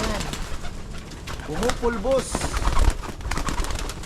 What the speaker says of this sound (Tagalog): Ito yung ating mga ibon.